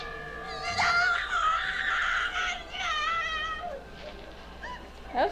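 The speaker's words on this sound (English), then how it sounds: "That was a good scream, though." A drawn-out, wavering scream from the 1981 horror film Madman rings loud and high across most of the moment, with a shorter cry breaking in near the end.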